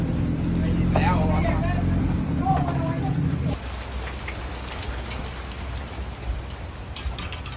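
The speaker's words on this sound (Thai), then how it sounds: "ตอนนี้ฝนทับใหญ่มาครับจะตกทับนี้นานแน่" Heavy rain pours outdoors beside a river, a dense steady hiss of drops on surfaces. A loud low rumble under it in the first half cuts off suddenly partway through, leaving the rain alone.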